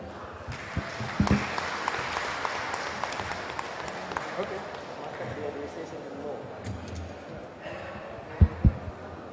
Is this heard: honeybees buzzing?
no